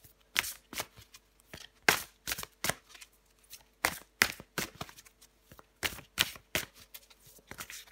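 Tarot cards shuffled and drawn by hand: a sequence of crisp, close riffling and slapping bursts in an uneven rhythm, separated by short quiet gaps, with no talking.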